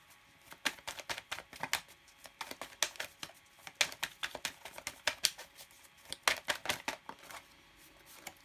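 Tarot and oracle cards are shuffled and laid down in a steady run of crisp taps and soft slaps, close and quiet, repeating for several seconds without talking.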